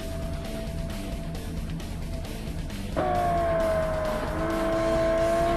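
Race cars in Forza Motorsport during an R-GT class endurance race, with a steady high engine drone that rises in pitch as another car's engine closes in, loud and continuous.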